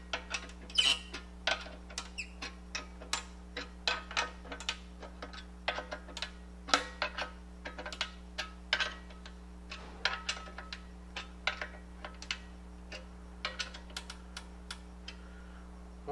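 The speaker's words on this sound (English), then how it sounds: "you can listen to that head settle as we're tightening." A banjo head settling as its hook nuts are tightened a quarter turn at a time: irregular small ticks and creaks, close and crisp, over a steady low hum, with no talking.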